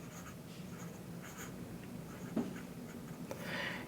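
Nib of a Lamy Safari fountain pen, medium charcoal model inked with violet blackberry ink, writing on paper, giving soft, close, continuous scratchy strokes with a few faint taps, no talking.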